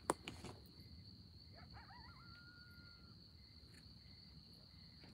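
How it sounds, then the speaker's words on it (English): Crickets chirp in a still garden at night with a continuous high, faint trill, broken by a few soft knocks at the start and a distant whistling call partway through. "It's so still. You can hear the crickets,"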